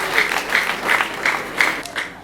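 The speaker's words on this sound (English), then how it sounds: "A round of applause for him" Students and teachers at a school debate applaud in short regular bursts, roughly five rhythmic swells of clapping with a nearby voice talking through them.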